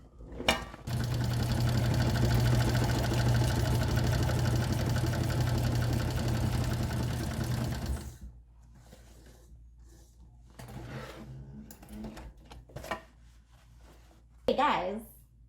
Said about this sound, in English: I'm gonna sew this down, over, and up, leaving no hole for opening, 1/2 inch seam allowance